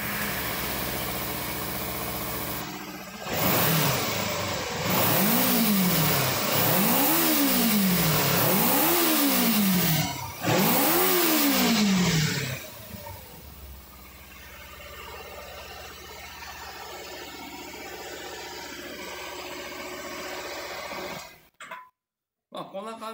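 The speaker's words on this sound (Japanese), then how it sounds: "吹き上がり、アイドリングともに全て安定しておりまして" A Kawasaki Ninja 250 Special Edition motorcycle engine revs in four rising-and-falling bursts, then settles into a steady idle, close and loud.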